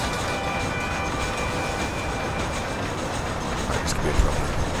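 A steam train engine rolling on rails in the Western video game Red Dead Redemption, a continuous broad rumble and rattle of wheels with a faint steady tone above and a brief hiss near the end.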